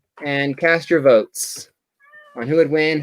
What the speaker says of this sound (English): And I apologize for my cat.